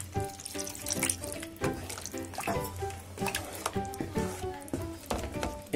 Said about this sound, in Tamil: இப்போ கொஞ்சம் தண்ணி சேர்த்துக்கலாம்.